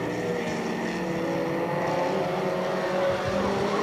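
Stock cars race around an oval track, their engines roaring in a loud, steady drone that holds without a break as the pack runs close by.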